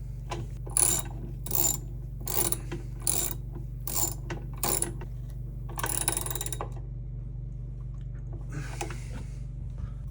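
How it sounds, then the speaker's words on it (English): A ratchet tightens the 7/16 screw that holds down the agitator of a Whirlpool direct drive top-load washer. It gives repeated short clicking bursts in a steady rhythm, close up over a constant low hum, then a final brief burst. "Reinstall the 7/16 screw to hold down the agitator"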